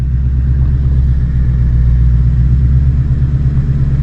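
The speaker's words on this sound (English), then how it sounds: "that engine sound, woo!" A 2026 Ford Mustang GT with its 5.0 V8 runs loud and close, a thick, steady low rumble that holds evenly throughout with no talking.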